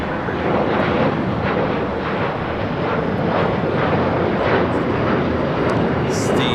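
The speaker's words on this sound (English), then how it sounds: "It's the Flight 60 coming up from Osaka, 787-9 Dreamliner with Japan Airlines" A Japan Airlines Boeing 787-9 Dreamliner arriving at LAX from Osaka gives a steady, broad jet roar that holds loud and even throughout, with airband radio chatter mixed in.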